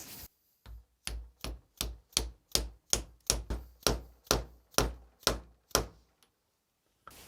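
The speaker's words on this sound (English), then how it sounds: "I'm going to use this socket to drive it all in." New seal on a Jaguar XJS power steering rack driven in with a socket, about a dozen sharp, evenly paced hammer taps close up, each ringing briefly, alone with no talk.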